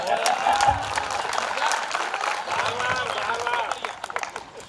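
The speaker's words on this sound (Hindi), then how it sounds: "एक बार इनके लिए भी तालियां जरूर" Applause rises from the audience at a Hindi kavi sammelan poetry recital, a busy patter of clapping that stays fairly loud throughout while a voice cuts in over it.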